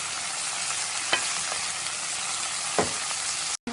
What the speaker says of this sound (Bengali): মূলার লগে মশলা বালা করে লাড়িয়া মিশাই লাইছি